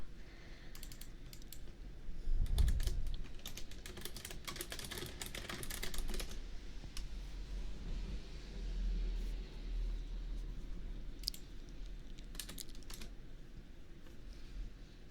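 Steady computer keyboard typing during a livestream search, rapid clicking keystrokes in bursts over a low room rumble, close and moderately loud with no talking.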